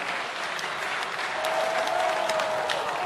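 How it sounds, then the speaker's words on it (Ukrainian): Steady audience applause at a presidential inaugural address in a large hall, a dense even patter of many hands clapping continuously throughout at moderate loudness with no speech over it. "Якісь вибіркові оплески"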